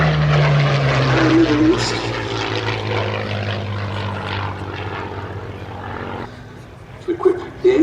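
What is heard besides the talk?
Curtiss P-40F Warhawk aircraft flying at airshow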